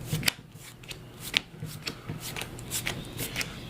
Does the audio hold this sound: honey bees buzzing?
no